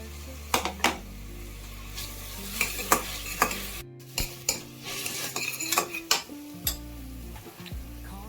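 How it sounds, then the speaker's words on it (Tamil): Onions sautéing in a pan as cut tomatoes are added, a soft steady sizzle under repeated scraping and clinking stirs of a spoon against the pan, close and fairly quiet. "வெங்காயம் லைட்டாக வதங்கினதும் 2 தக்காளி கட் பண்ணி வச்சுருக்கேன், அதை சேர்த்துக்கலாம்."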